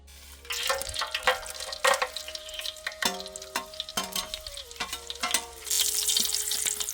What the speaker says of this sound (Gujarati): આપણું તેલ ગરમ થઈ ગયું છે મિત્રો તો આપણે નાખી દઈશું ખડા મસાલા